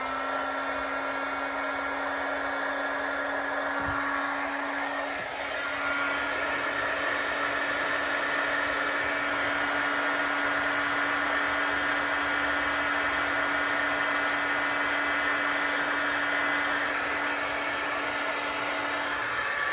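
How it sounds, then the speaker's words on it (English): A handheld heat gun used for card-making embossing blows with a steady, loud whine and airy rush, running unbroken for about twenty seconds with no one talking. "And I'm going to turn on the heat gun, so watch your ears."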